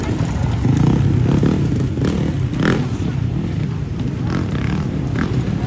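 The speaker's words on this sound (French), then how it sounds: "Il roule avec son 300 Sherco lui aussi" A Sherco 300 enduro motorcycle ridden during a hard championship race near Le Puy-en-Velay, its loud engine roaring and surging steadily up close, with a voice faintly underneath.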